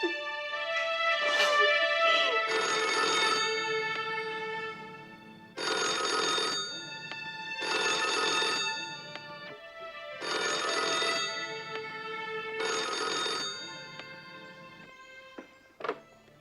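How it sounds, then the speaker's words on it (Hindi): An old-style telephone bell rings in about five long, loud repeated bursts with short pauses between them, close and clear in a quiet room in a Hindi crime drama, ending with a soft thunk. "इतनी देर तक फोन नहीं उठाया?"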